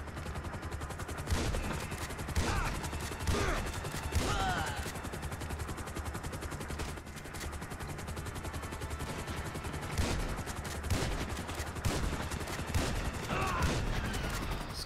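Sustained bursts of gunfire in GTA V during a gang fight in a junkyard, rapid shots crackling loudly and almost without pause, with heavier blasts and occasional whirring overhead.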